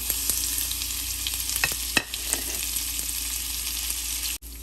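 White sesame seeds, cut chillies and curry leaves sizzle loudly in hot oil for a poha dhokla tempering. The crackle is dense and continuous, with a few sharper pops and spatters.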